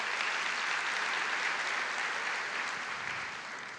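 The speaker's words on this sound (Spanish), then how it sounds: "Un aplauso al Señor porque ustedes la han visto." Sustained applause from an auditorium audience during a testimony talk, dense even clapping that slowly tapers off toward the end.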